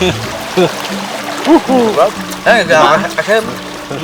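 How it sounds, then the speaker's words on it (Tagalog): A strong river current rushes steadily in the background while a person talks loudly close by. "Ito eh, umaagos. Lakas ng agos, ng agos."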